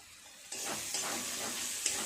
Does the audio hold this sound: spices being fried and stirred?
yes